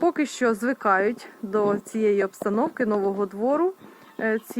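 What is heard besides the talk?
No everyday noises stand out.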